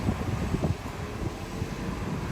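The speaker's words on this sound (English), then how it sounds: "Nice and windy again today too." Outdoor wind at Universal Orlando Resort buffets the microphone in low, uneven gusts, a steady rumbling rush with a few stronger puffs early on, no talking.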